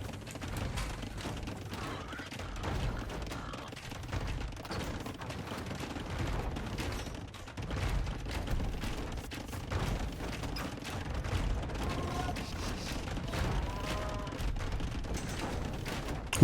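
Trebuchets and siege fighting against a castle in Age of Empires II, a steady dense wash of distant thuds, impacts and clattering battle mechanisms that continues without break at moderate loudness.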